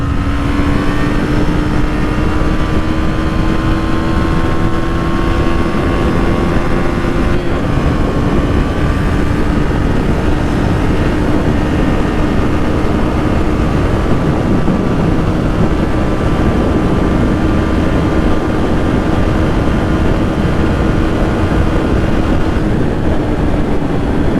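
A Husqvarna Svartpilen 250 motorcycle cruises on a highway, its steady engine drone holding under constant wind rush, with a small pitch shift partway through.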